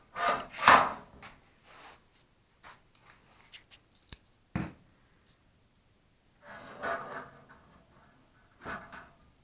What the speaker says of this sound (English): now we're going to put this bottom grate on